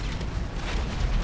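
A bomb blast from a bombing run in GTA V rumbles as a dense, continuous low roar filling the whole moment, loud and close, with no clear separate hits.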